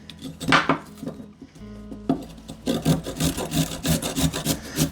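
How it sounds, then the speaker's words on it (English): Carrot rubbed against a hand grater, a run of quick scraping strokes with light metallic clatter, close and fairly loud, with no talking. "I'm just going to grate this carrot real quick."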